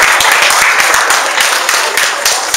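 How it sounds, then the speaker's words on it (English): An audience at a holiday networking event in Tracy, California claps its hands in loud, close, continuous applause. "Give him one more hand clap."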